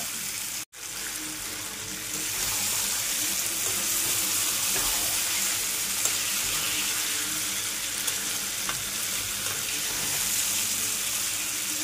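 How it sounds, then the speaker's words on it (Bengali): Poultry chicken pieces sauté in a hot pan with a steady, close sizzling hiss that carries on without a break after a short pause at the start. "চিকেনটাকে আমি ভালো করে কষিয়ে নিই"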